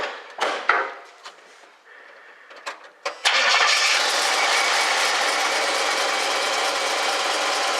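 A 1976 Pontiac Firebird Formula V8 with a leaking fuel line cranks with a few sharp clicks and catches, then settles into a loud, steady idle with a slight miss, recorded up close with no talking.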